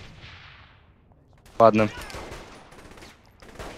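A short burst of video-game gunfire in Saints Row 3 co-op play, two loud rapid bursts close together midway through, with quieter background game noise and a brief spoken word.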